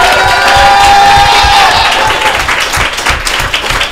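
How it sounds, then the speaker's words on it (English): A crowd gives a loud, sustained round of applause and cheering for the Empire Ravens, the 3A state champion girls' softball team, with dense clapping, shouts and a brief whistle-like tone early on. "if we can get a big round of applause for the ladies here at the Ravens"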